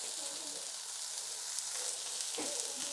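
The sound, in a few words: dried shrimp powder frying in a pan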